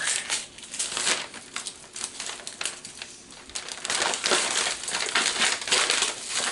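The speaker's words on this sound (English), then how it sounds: "for some reason this tape didn't want to stick to this butcher paper" Tape being pulled and pressed onto stiff butcher paper wrapped around a salt and molasses dry-cured ham, giving continuous close crinkling, rustling and crackling with bursts of tearing, steady and loud throughout, no voices.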